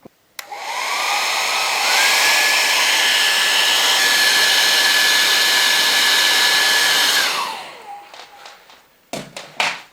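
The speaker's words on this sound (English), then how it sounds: "now I can get my hairdryer" Hair dryer blowing steadily on a drying watercolour painting of boulders treated with salt, a loud continuous whoosh lasting several seconds before switching off, followed by a few light taps and knocks.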